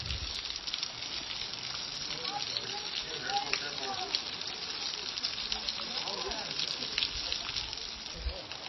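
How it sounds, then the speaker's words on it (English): Water dripping down rock faces onto other rocks at Weeping Rock in Zion National Park makes a steady soft hiss and patter like light rain, with faint voices of distant tourists underneath. "this rock that is dripping water down onto other rocks"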